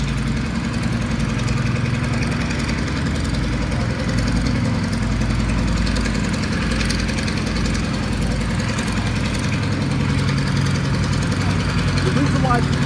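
Piston engines of a Lockheed Super Constellation, an older airliner, running with a steady low throbbing drone at a constant loud level, with someone talking over it.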